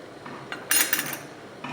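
A spoon scrapes and clinks against a pot of Ayurvedic kadha, a herbal cold and cough remedy with a little mustard oil. A few light metallic knocks and one louder clatter burst come close by, with no talking.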